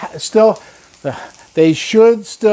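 Thinly sliced potatoes and jalapeno frying in a pan, giving a light sizzle mostly buried under a person talking close by.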